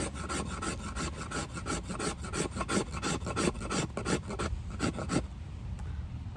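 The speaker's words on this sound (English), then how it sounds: "More scraping." A knife blade scraped repeatedly down a ferro rod outdoors for fire lighting, a close, steady run of quick rasping strokes in uneven rhythm with no talking.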